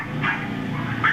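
Dogs at a puppy mill give two high, strained yelping barks, one early and one at the end, over a steady hum of background noise.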